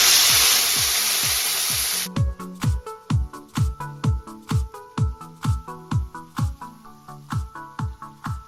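Flat beans tipped into hot mustard oil already seasoned with black cumin and dried chillies give a loud, close sizzle for about two seconds. A steady run of rhythmic clanks follows, about two per second.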